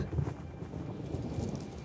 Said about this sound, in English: Uh-oh, the storm!